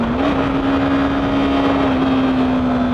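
A Yamaha YZF-R3 motorcycle engine held at full throttle near its 11,000 RPM red line, a steady high droning whine under wind noise while riding, loud and continuous.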